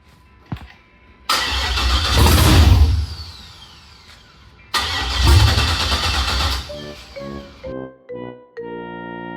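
A Hummer H2 LS engine swapped into an older Chevy truck, missing its mass airflow sensor, cranks loudly in two long bursts without catching, then sputters briefly before stopping.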